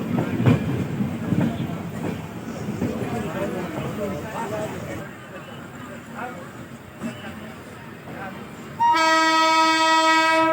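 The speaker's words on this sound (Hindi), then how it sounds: "पता नहीं कौन सी ट्रेन है, बहुत ही स्लो रफ्तार में क्रॉस हो रही है।" Train 14055 from Mau Junction to Anand Vihar rolls slowly past with a steady rumble and clatter, then a long, loud horn blast sounds nearby for the last couple of seconds.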